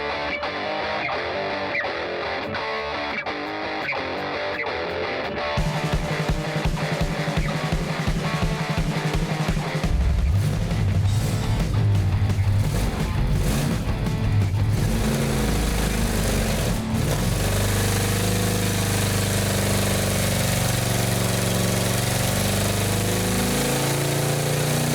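A carbureted Pontiac 400 V8 runs on an engine dyno, loud and close, its steady roar climbing in pitch as it is revved up and held at high speed for the whole stretch.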